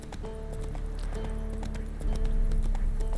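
Geralt's horse Roach trots steadily in The Witcher 3 video game, with a continuous even clip-clop of hooves close by over a layer of background game music, no voices.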